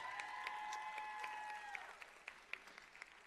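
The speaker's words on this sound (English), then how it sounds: "Round of applause for Dr. Byers." An audience at a nursing college convocation applauds a faculty member, scattered clapping that thins out toward the end, with a sustained musical tone fading early on.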